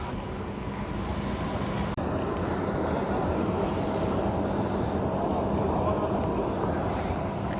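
A Star Air airplane at Nanded airport fills the scene with a steady, loud broadband engine roar that holds without a break, with no voices.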